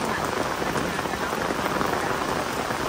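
Heavy, steady downpour of pouring rain at a graveside memorial, a dense continuous hiss of drops striking surfaces, close and loud throughout with no pauses.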